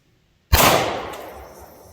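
A single sharp gunshot cracks out during an off-roading outing, loud and sudden from near, then rings away in a fading echo over about a second and a half.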